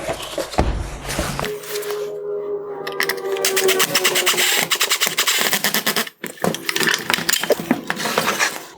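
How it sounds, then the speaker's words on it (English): Loosening the adjusting bolt on a 2016-2018 Kia Sorento halogen headlight gives metallic clinks and a rapid, steady ratcheting clatter for several seconds, with a brief pause before it resumes, loud and close. "I'm going to go to the rear and loosen the adjusting bolt."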